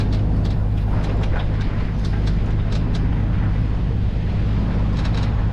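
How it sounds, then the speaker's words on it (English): Sailboat motoring under engine off Anglesey, a constant low engine drone mixed with heavy wind buffeting and wash of water, steady and loud throughout with no talk. "we set off 7:10 under engine, lifted anchor, and away we went"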